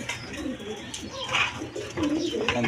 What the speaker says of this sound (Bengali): দর্শকবৃন্দ এখানে এক পেয়ার কবুতর আছে, দেখেন লোটন কবুতর।